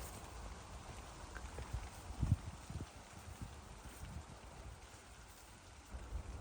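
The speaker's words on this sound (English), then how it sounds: "We're doing a little bit of hiding from the rain." Steady rain falling on a hiking trail in the Cotswolds, with scattered heavier drops and low rumbling thumps, fairly faint and continuous throughout.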